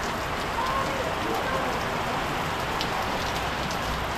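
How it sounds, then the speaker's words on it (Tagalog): Heavy rain pours down steadily, a dense, loud hiss of drops drumming on surfaces that fills the whole stretch without a break. "Lakas ng ulan"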